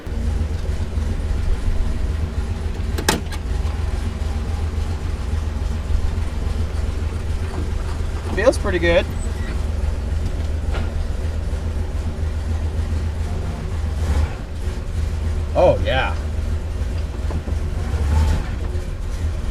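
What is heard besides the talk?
1967 Buick started and driven to test brakes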